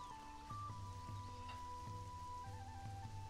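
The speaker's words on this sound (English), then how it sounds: "And we have rain, which is never a good sign for war." Rain falling in the Conan Exiles game world, a soft steady patter spread evenly under a droning background with faint tonal hums and rhythmic low pulses, no voices present.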